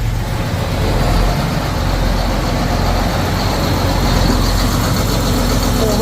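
A John Deere 8335R tractor with a warmed block heater and a jump pack attached, its diesel engine running with a steady, loud, close rumble throughout.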